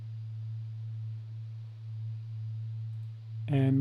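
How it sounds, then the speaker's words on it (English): A pure 111 Hz sub sine tone, a steady low hum held unchanged for over three seconds, with a brief brighter synth sound entering right at the end. "111 Hertz frequency"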